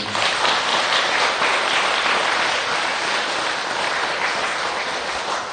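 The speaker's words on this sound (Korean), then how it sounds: "박수." Dense, steady applause from an audience gathered for a Buddhist dharma talk at a temple, loud and close, continuous clapping without pause and no talking over it.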